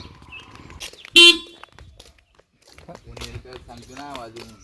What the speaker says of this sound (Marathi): गाडी उभी करून इथे हॉर्न मारतो काय